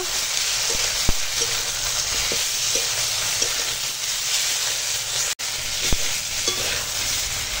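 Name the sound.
sautéing vegetables with ground ginger, cumin, poppy seed paste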